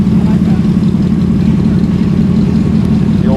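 Car engine with an aftermarket exhaust, running loud and close with a steady deep rumbling drone and no break, a voice talking over it.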